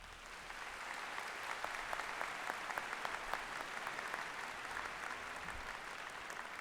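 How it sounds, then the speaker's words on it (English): An audience at a commencement ceremony claps steadily, a sustained round of applause that holds at an even level the whole time. "Please give them a round of applause."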